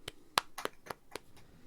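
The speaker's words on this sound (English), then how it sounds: "It sounds like a crowd of people clapping" Several quick, sharp hand claps in an irregular patter of about seven hits, fairly close and crisp, with no talking over them.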